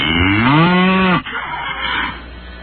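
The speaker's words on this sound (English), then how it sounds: "Ah, good old-fashioned cow." A cow moo played as a sound effect: one long, loud, drawn-out bellow rising then falling, followed by a brief quieter noisy tail, with no talking over it.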